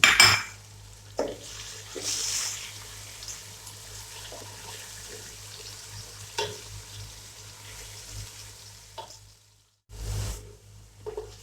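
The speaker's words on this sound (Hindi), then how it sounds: "अभी हम इसमें ऐड करेंगे बीफ 1 केजी जो हमने बॉईल करके रखा था। और अच्छी तरह फ्राई कर लेंगे।" Boiled beef fries with tomatoes in a pot for an Afghani Kabuli pulao, a soft continuous sizzle close by, broken by scraping stirs and clinks of a spoon against the metal, with a brief pause near the end.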